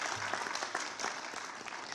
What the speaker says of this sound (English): So somebody should clap on that